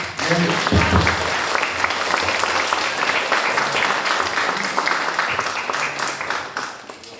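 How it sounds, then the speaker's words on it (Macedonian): A crowd at a picture-book promotion event in Bitola breaks into sustained applause, with a continuous even wash of clapping that thins out near the end and some voices underneath. "Јас мислам дека уште еден аплауз заслужуваат"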